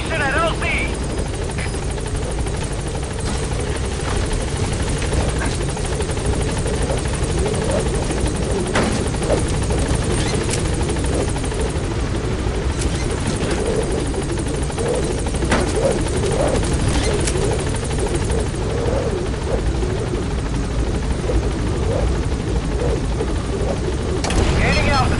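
Pequod helicopter hovering at a landing zone in Metal Gear Solid 5: The Phantom Pain, a loud, continuous rotor thrum and whine that holds steady for the whole stretch with occasional faint clicks over it.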